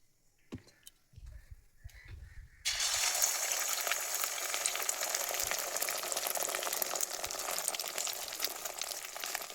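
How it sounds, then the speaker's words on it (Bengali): An egg cracked into hot oil in a pan with chopped onion and chilli: after a few soft knocks and clatters, a loud, steady crackling sizzle bursts in and keeps spitting close by until the end. "এখন হচ্ছে ডিমটা ভাজবো"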